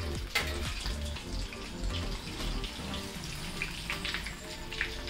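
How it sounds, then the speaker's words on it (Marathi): Chicken lollipops deep frying in oil on full gas, a dense, steady bubbling roar that stays loud and even throughout, with light crackles on top. "शेवटचे ना एक अर्धा मिनिट तुम्ही फुल गॅसवर लॉलीपॉप तळा"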